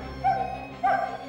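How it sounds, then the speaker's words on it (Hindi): A dog gives two short, close barks about half a second apart, with nothing else going on. "टोनी भौंक रहा था ना"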